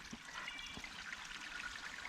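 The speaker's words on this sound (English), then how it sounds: "A little waterfall thing down here." Small outdoor waterfall trickling into a pool, a faint steady splashing and babbling wash with a few soft drips, heard from a short distance.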